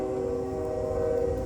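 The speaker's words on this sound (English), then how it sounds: "in case you heard that train noise" A steady, sustained train horn or distant rail tone drones on with a low rumble beneath, constant and fairly faint throughout, heard on the Michigan State University campus.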